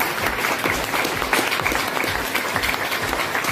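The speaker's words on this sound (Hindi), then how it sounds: "मैं एक बार जोरदार तालियां चाहूंगा" A crowd claps steadily and loudly, a dense, even patter of many hands without pause.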